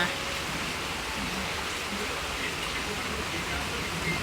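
Steady rain falls around a house in Bangkok during the rainy season, a constant even hiss of drops that stays moderately soft and unchanging, with no voices over it.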